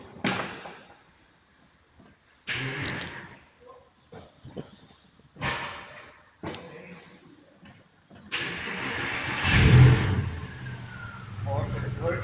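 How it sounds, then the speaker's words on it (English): A 2006 Porsche Boxster engine cranks and catches at close range, then settles into a steady idle, following a stretch of quiet handling noises and scattered clicks and thumps. "Right now we will start the Porsche."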